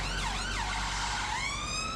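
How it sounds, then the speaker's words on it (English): A London ambulance siren wails on a city street, rising and falling in loud sweeping tones over steady traffic rumble. "London ambulances have become ubiquitous in the capital, pacing the streets and delivering fragile cargo to waiting hospitals"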